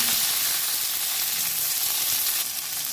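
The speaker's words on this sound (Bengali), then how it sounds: "অল্প পরিমাণে তেল আছে এর মধ্যে আমি টমেটোগুলো ভেজে" Tomatoes frying in a small amount of oil give a continuous close hiss with light crackle, steady and even throughout and without any speech.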